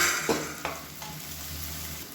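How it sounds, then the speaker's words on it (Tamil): Onions and spices sizzle and fry in a pan for a tomato salna, a steady hiss broken by a few stirring scrapes. "வெங்காயம் நல்லா வதங்கிடுச்சு"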